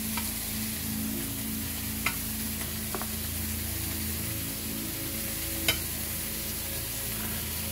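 Meatballs browning in a pan, a low keto dish, give a steady, even sizzle with a couple of sharp spatter pops, quite close and with no voices.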